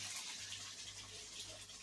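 Water pours steadily from a glass into a pot of chaap, a soft continuous gushing splash that runs alone for under two seconds before cutting off.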